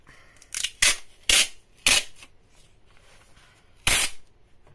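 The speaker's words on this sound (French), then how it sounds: "On va prendre ce scotch là." Several sharp, loud ripping bursts of tape being pulled from a roll, four quick tears spaced irregularly, close up with quiet pauses between.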